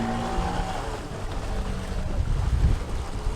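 A repaired outboard motor on a boat runs steadily after being dried out from drowning, a low continuous drone mixed with wind buffeting the microphone and water noise, close and fairly loud with no talking.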